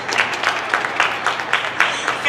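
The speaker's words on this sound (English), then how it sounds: "Emmett Jordan, go ahead, you can do the claps." An audience claps for a city mayor at a teen summit event, a steady patter of applause from a crowd with a rhythmic pulse, moderately loud and without talking.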